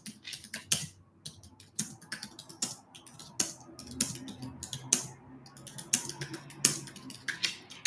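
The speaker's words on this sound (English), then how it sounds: "I'm going to type it in the chat." Fingers tap out a message on a computer keyboard in irregular bursts of close, crisp clicks with short pauses between, and no one speaks.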